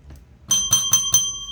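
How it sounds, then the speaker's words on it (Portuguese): A notification bell sound effect rings four quick bright dings in an even rhythm, each chime sustaining into the next, loud and close with no voices. "Acionar o sininho das notificações"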